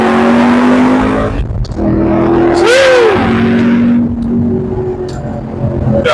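A 5th-generation Camaro's engine drones at a steady idle, then swells in a single loud rev toward 5,000 RPM and drops back, followed by a smaller rise in pitch.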